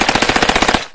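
A Soviet machine gun firing one rapid, loud, sustained burst of evenly spaced shots for about a second, then cutting off abruptly.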